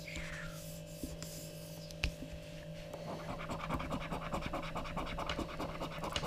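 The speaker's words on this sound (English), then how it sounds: "Monopoly scratch card." A £5 Monopoly scratch card is rubbed with a coin in a kitchen, giving a steady, close, gritty scraping that runs for several seconds with no talk.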